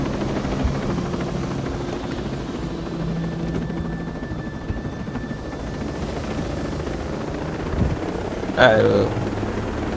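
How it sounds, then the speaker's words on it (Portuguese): A helicopter in the video game Tom Clancy's Ghost Recon Breakpoint gives off a steady, close rotor and engine drone throughout. A player speaks briefly over it near the end. "Vamos lá no helicóptero."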